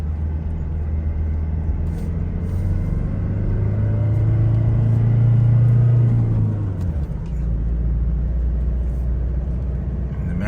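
A car engine labours up a steep mountain road in first gear, a close, loud low drone that swells in pitch and then drops back to a steady rumble.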